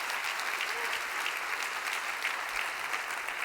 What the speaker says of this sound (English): Let's give Michael and Great Place to Work one more round of applause